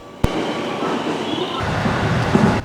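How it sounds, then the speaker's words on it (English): Local train running on the line near Amagasaki, Osaka, a steady rumbling roll with rail noise and a sharp clack at the start, close and continuous with no talk. "And that's the train I was on."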